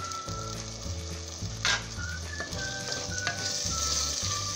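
Meat frying in a pot for Peruvian olluquito con carne, stirred with a utensil: a close, steady sizzle runs throughout, with repeated scraping and clinking strokes against the pot.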